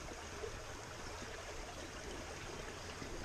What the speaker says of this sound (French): une veine d'eau avec pas mal de courant